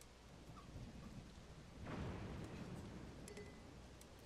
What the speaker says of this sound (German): Und solange so blitzt und gewittert ist ein bisschen doof.